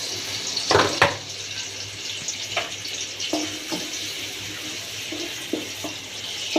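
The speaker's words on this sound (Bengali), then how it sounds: "আমি পেঁয়াজটা ব্রাউন করার জন্য প্রথমে আমি পরিমাণ মতো পেঁয়াজ আমি দিয়ে দিচ্ছি" Onions browning in a frying pan for chicken biryani: a steady close sizzle with a few sharp clinks and scrapes of utensils, no voices.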